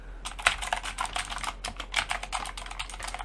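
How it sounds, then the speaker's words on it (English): Steady, rapid typing on an Ajazz AK33 mechanical keyboard, sharp clacky keystrokes close up in a continuous rhythm with no talking. "this is a really loud keyboard"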